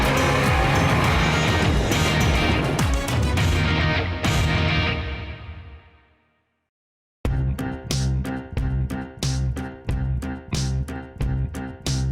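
Rally cars racing flat out on tarmac at TARGA Tasmania, a loud engine roar that fades away to near silence, then returns as a rapid series of sharp, revving bursts and gear changes, with no talk.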